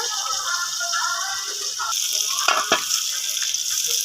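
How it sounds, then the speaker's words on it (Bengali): Pangas fish pieces frying in a covered pan of oil, a steady loud close sizzle with a few sharp spits and crackles partway through and no talk over it. "মাছগুলো ভাজা হয়ে গেছে তুলে নেবো"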